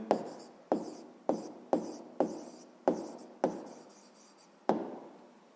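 Repeated pen strokes on paper while a sixth-grade math exercise answer is written out, eight distinct scratchy taps and scrapes in an uneven rhythm, close and fairly quiet, with no talking.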